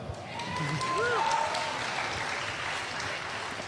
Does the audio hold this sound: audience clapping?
yes